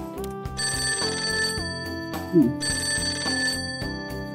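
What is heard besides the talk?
phone ringing in the video game Persona 5: Tactica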